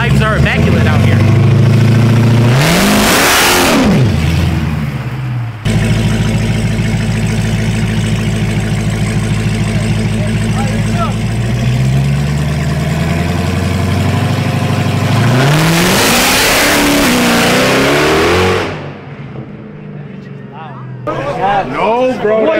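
A turbocharged Jeep SRT and an Audi S8 rev and race nearby: loud engine roars climb and fall in two big surges, with a long droning run between them, and people talk throughout.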